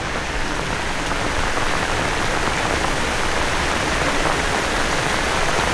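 Heavy rain falls steadily on an ampalaya (bitter gourd) farm, a dense, unbroken hiss of drops on the surface that stays loud and constant throughout.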